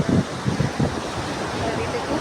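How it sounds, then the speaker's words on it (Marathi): Surf rolls in at Golden Beach in Achara, on the Konkan coast, as a steady rushing wash with a few stronger surges early on and wind gusting over the microphone. "लाटा कशा येतात, पाणी"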